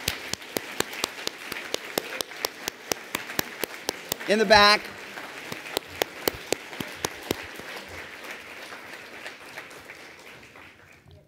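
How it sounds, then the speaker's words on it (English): Audience applause at a tax section luncheon, honoring staff who stand: scattered individual claps ring out in a steady room-filling patter, with a brief burst of talk partway through, tapering off toward the end. "we can all give you a well-deserved round of applause for your work."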